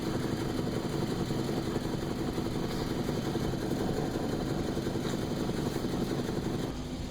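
Car engine with a bad head gasket idling, a steady low, rough mechanical drone holding even for about seven seconds with no voices.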